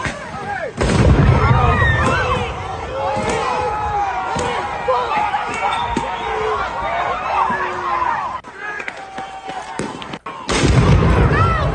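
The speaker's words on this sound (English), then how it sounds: "we just had an explosion here" Sharp, booming blasts from an explosion at a street protest hit up close, several heavy thuds spread across a noisy crowd scene with shouting and talking throughout.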